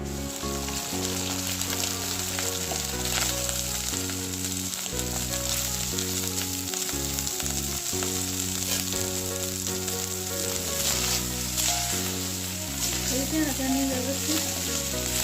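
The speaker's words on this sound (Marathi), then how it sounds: "तापलं तेल तापलं आहे आता आपण त्याच्यात जिरे घालून घेऊ" Cumin seeds sizzle in hot oil for jeera rice, a steady, close, crackling fry that continues throughout under a background music bed.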